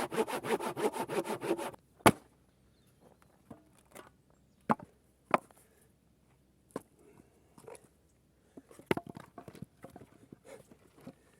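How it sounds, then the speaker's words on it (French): A hand saw cuts firewood with quick, rhythmic back-and-forth strokes for under two seconds. Scattered sharp knocks and clunks follow in otherwise quiet surroundings. "Une scie, outil mécanique."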